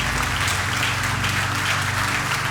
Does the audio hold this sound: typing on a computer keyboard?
no